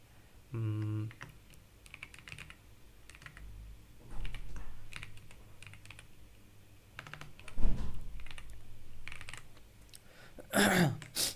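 Keys clack irregularly on a computer keyboard as Java exception-handling code is typed, with scattered soft taps, a few louder clicks and a brief tonal sound near the start, no speech.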